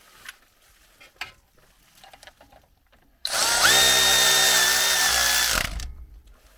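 After a quiet stretch with a few clicks, a power tool whirs loudly for about two and a half seconds, driving 10 mm bolts on a lower brake bracket during a leveling kit install on a 2017-19 Ford Super Duty truck, then stops.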